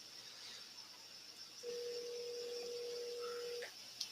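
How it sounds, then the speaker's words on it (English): A phone call is dialed, with a single steady electronic tone sounding for about two seconds after a quiet stretch, followed by a faint click at the end, with no talking. "I'm gonna make a phone call live."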